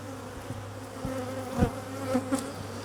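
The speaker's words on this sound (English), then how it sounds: "I'm just going to start shaking bees into the nucs now." Honeybees being shaken off frames into nucleus boxes outdoors, a steady close buzzing swarm with a few louder thumps and swells as the frames are knocked.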